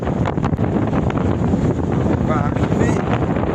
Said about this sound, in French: Nous on est toujours au moteur, toujours le vent. Pleine face, et fort.